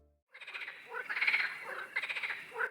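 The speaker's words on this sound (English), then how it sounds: "A frog." A frog croaks in a series of rapid, buzzy pulsed calls, a few closely spaced bursts rising and falling, heard clearly and alone against a quiet background.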